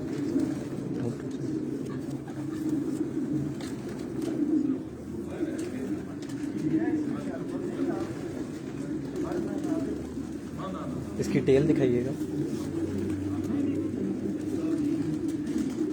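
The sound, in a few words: racing pigeons cooing in a loft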